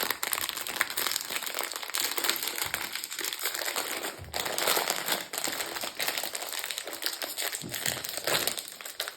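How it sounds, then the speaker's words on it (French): Plastic packaging for cotton makeup-remover pads crinkles and crackles continuously as it is torn open close up, a dense rustling with no talking. "ça vous éviterait les bruits de plastique"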